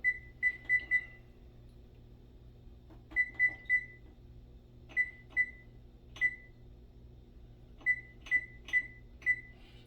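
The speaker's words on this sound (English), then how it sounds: "That timer's pissing me off." A phone kitchen timer beeps repeatedly in a quiet kitchen, sounding clear, high electronic chirps in quick clusters of three or four with short pauses between groups.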